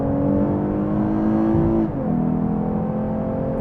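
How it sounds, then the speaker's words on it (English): A 2023 Lexus IS 350 sport sedan accelerates from the cabin with a loud, steady intake drone that climbs in pitch, dips briefly at a gear change, then carries on. "I like the intake noise that this has."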